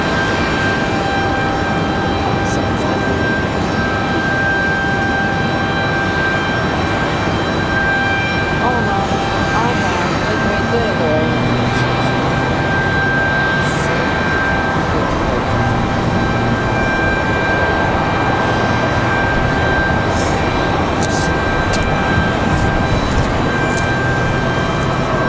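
Boeing 757 jet departing Raleigh-Durham airport on a windy day, a steady broadband engine roar filling the whole span with wind noise, far to mid-distance and sustained throughout.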